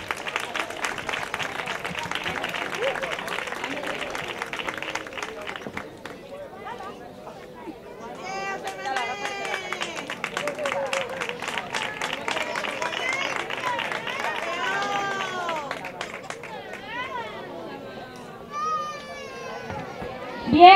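Audience applause at a school graduation ceremony, a steady wash of clapping that fades, then gives way to lively crowd chatter and children's voices, with applause continuing underneath.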